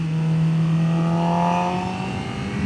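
A motorcycle engine runs steadily near at hand during a downshift, a loud continuous drone whose pitch glides slightly up and then settles.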